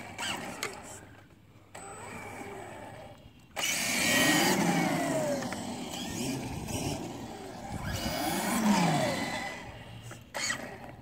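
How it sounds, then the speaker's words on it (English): A Kyosho MFK2.0 Blazer RC truck's small electric motor whines and surges in rising and falling bursts as its slipper clutch slips, revving up and down with a gritty slipping drone, fairly close. "You can hear the slipper slipping."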